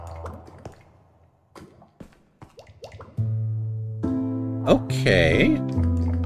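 Drips from a block in Minecraft fall as scattered soft plips, joined midway by a steady tonal game hum, with a louder splashy burst near the end.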